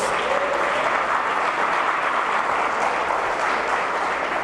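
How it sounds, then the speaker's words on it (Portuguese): A church congregation breaks into sustained applause for the Messiah during a sermon, dense and steady throughout, many hands clapping at once and filling the room without any talk. "Dê um aplauso ao Messias."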